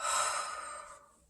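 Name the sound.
deep breath in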